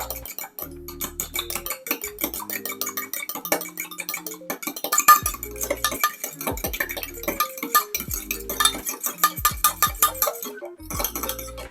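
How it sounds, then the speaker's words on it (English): Baking ingredients stirred together in a bowl, with a utensil clinking and scraping steadily against the sides in quick repeated strokes, close and fairly loud throughout without any talking. "And then we're just gonna mix that all together."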